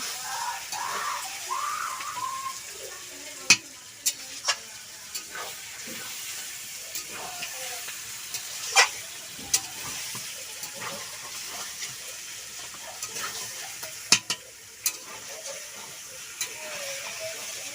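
Poultry meat being kosha-cooked in a home kitchen, a steady frying sizzle and hiss running throughout, broken by sharp scattered clicks and scrapes of stirring at irregular intervals, close and moderately loud.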